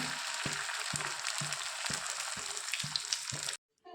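Eggs fry in a pan in a home kitchen with a loud, constant sizzle and a regular series of soft taps, then the sound cuts out abruptly near the end.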